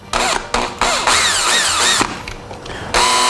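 A power drill cuts a larger hole for a Lowrance Point-1 GPS antenna cable in short whirring bursts that start and stop, loud and close, with rising and falling motor pitch.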